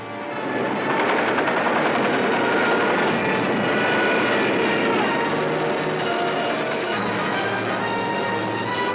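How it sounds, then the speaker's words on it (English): German bombers in a Battle of Britain raid over London: a dense, continuous roar of aircraft engines with rapid gunfire-like rattling throughout, loud and sustained without any voices. "Some of the German bombers broke through London's defenses"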